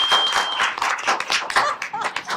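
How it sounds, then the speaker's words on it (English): Scattered hand claps from a small room at a city commission meeting, a loose, uneven round of applause heard close with gaps between the claps and a faint tone underneath at the start. "I want to offer a round of applause for such a great job."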